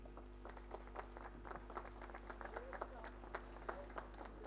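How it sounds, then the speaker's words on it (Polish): Faint audience applause at a Bydgoszcz cultural event, with scattered individual claps pattering steadily over a low electrical hum, distant and thin. "Być może dadzą Państwo się namówić na pierwsze brawa tego popołudnia."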